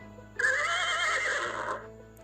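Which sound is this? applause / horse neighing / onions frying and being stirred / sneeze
horse neighing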